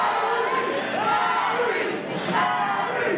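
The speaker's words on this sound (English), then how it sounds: "Big support from the crowd here" Crowd at the NFC 103 fight event cheering and shouting, a loud mass of voices with rising yells and whoops that swell and dip over a few seconds.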